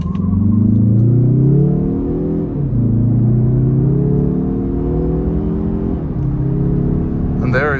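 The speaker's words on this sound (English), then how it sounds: "Pop it into sport mode to get a little acceleration test over here for you guys." A 2022 Mazda 3 Turbo sedan accelerates hard in sport mode, its engine rumble climbing in pitch through rising sweeps, dropping at each gear shift and then rising again. The sound is loud and close, heard from inside the car.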